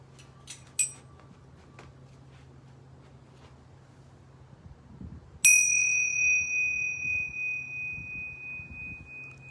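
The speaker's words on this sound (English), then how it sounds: "going to ring these yoga bells 3 times." Yoga bells ring in a quiet room: a soft chime, then a fainter one, then a loud, bright strike that hums and shimmers for several seconds.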